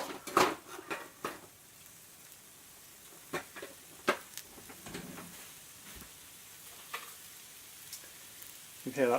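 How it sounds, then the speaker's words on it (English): Chicken sizzling in a frying pan with tomatoes for a spinach curry, a soft, patchy crackle beneath sharper clatters and stirring knocks. "You can hear that sizzling a little bit."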